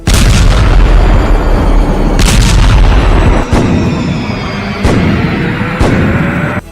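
Artillery fire and explosions from Russian attacks on Ukraine, a loud, continuous rumble broken by several sharp booms at irregular intervals, with nobody talking.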